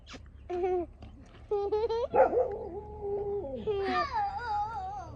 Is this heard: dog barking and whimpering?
yes